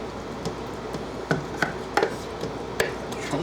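Santa Fe chicken slices are chopped and broken up in a pan, heard as a series of sharp, separate knocks and scrapes of a utensil against the pan over a quiet, low background.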